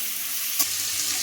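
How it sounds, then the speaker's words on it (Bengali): Vegetables with tomato and green chilli sizzle loudly in oil, a continuous close hiss broken by a single soft knock of the stirring spoon midway. "এবার আমি একটু ভালোভাবে নাড়িয়ে চাড়িয়ে নেব"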